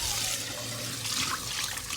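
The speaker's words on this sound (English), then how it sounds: "This pot was very oily, so I used hot water." Hot water runs from a tap while an oily pot is washed by hand, a steady close splashing gush with small shifts in flow.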